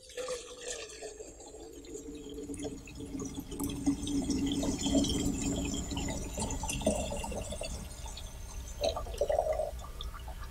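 Water poured from a pitcher into a baptismal font in a church, a soft, steady trickling and splashing that swells slightly and then continues faintly in a quiet, reverberant room.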